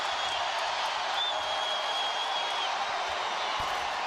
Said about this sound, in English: it's getting really loud as KG leads the cheers